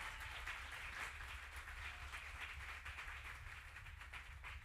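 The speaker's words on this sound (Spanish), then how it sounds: "Los recibimos con un fuerte aplauso." A church congregation gives a warm round of applause to welcome honored guests, dense clapping heard at a distance and fairly faint, continuing evenly without speech.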